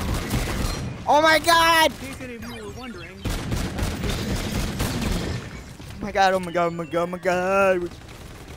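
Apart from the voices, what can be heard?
gunfire in the video game Call of Duty: Zombies in Spaceland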